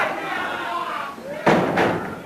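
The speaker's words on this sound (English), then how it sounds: "Tyler slamming that forearm into the back of Jesse Barr and spinning the arm around" In a 1980 professional wrestling tag-team match, a forearm is slammed into an opponent's back: two sharp, loud thuds land in quick succession over a continuous arena din.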